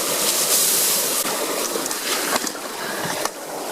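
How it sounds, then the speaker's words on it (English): Water draining from a rice field, a steady broadband rushing and trickling flow that holds constant throughout, fairly close and continuous, with no voices. "That's the sound of a rice field draining."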